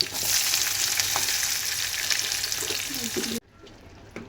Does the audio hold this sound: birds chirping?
no